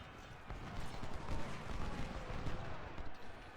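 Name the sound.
cannon artillery fire in Ultimate General Civil War video game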